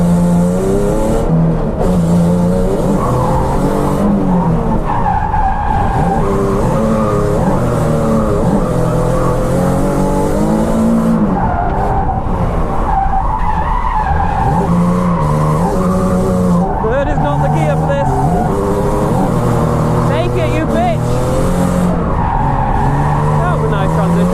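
A Nissan 370Z drifts on an empty track, its engine revving hard and rising and falling as the tires squeal and skid in long loud screeches, close and continuous throughout.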